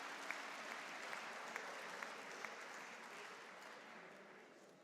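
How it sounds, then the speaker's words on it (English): A graduation audience claps in a soft, distant ripple of scattered hands, with a few sharper claps standing out. The sound slowly fades toward the end. "You can clap."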